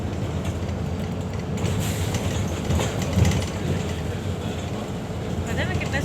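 A metro train runs along the rails, a continuous low rumble and rattle heard from inside the carriage with occasional clunks, moderately loud and steady throughout.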